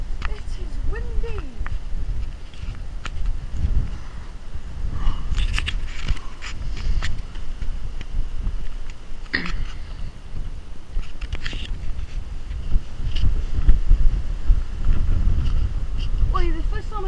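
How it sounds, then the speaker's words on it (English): Strong wind buffets the microphone in continuous gusts atop a water tower, a low roaring rumble with occasional creaks and rattles, and no one speaking. "Ooh, it is windy."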